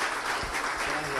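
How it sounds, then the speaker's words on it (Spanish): A conference audience applauds the speakers in a steady wash of clapping that fills the room at moderate volume. "pido un fuerte aplauso"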